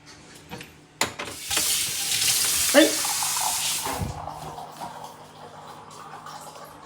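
Dishes are washed under a running kitchen tap, water rushing steadily into the sink with clinks and a clatter of plates, while voices talk nearby.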